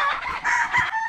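A rooster crows at a gamefowl farm, one loud, close call in several rising and falling sections, with no voices.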